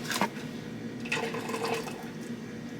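Boiled water poured from a pot in a home kitchen, a steady splashing, gurgling stream with a couple of louder bursts, close and continuous throughout.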